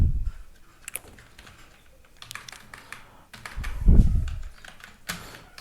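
Keys on a computer keyboard clatter in short, uneven bursts of close, crisp clicks, with a few brief pauses and a louder thump or two in between.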